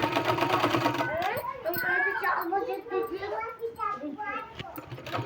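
A sewing machine stitches a sleeve in short bursts of rapid mechanical chatter, with a voice talking over the whirring throughout.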